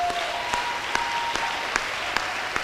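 A church congregation applauds in worship, a steady wash of clapping from many hands that fills the room and carries through without a pause, with a faint voice in the background and a few louder claps standing out.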